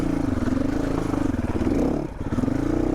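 A 2022 GPX Moto FSE450R dirt bike working up a rocky, muddy singletrack trail, its engine droning and rising in pitch under load, with rattles and scrapes from the terrain and a brief dip near the end.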